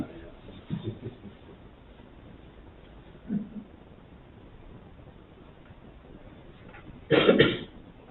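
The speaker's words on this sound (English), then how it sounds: "I apologize for all the coughing, guys." A few short coughs and throat clearings from one person at a board meeting, spaced out, with a louder hacking burst near the end over a quiet room.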